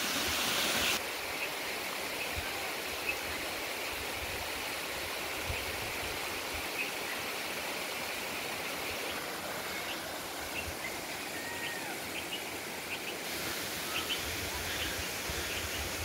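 Small waterfalls and streams on the Agashiv hillside near Karad in the monsoon season make a steady, broad rush of falling water that runs evenly throughout, with a faint rustle of leaves and no voices.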